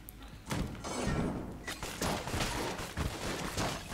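Rapid cartoonish gunfire from Enter the Gungeon, a dense stream of shots and thumping impacts that runs nearly nonstop for about four seconds at steady, fairly loud level, with little talk.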